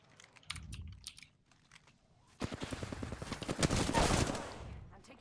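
Rapid automatic gunfire in a multiplayer video game, a dense burst of quick shots lasting a few seconds after softer clicking, fairly loud and close.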